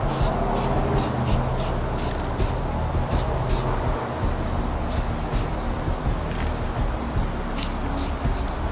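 Spray paint hissing onto a wood stove heater as a light dust coat goes on, a loud continuous close spray broken by short bursts and brief pauses between passes.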